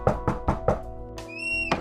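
Knocking on a house door, four even, fairly close raps in a quick row, followed by a brief tonal ringing and a final soft knock.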